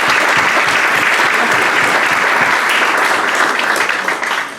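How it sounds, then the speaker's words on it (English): An audience at a Rotary meeting gives a loud, dense round of applause, many hands clapping steadily and close, holding strong before tapering off at the very end. "So let's all give Devon a round of applause."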